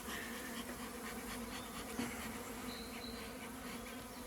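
A dense, steady buzzing of many honeybees in an open hive fills the air at close range, a continuous drone with a faint thump near the middle.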